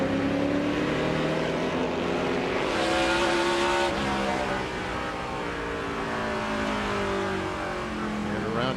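A race car late in the Kroger 200 at Indianapolis Raceway Park spins out, its engine roaring and revving loudly with rising and falling pitch and a faint tire squeal, over steady track noise.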